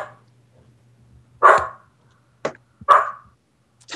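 Dogs barking indoors in a few short separate bursts, fairly close and loud against a quiet background with a low steady hum, with no talking between the barks.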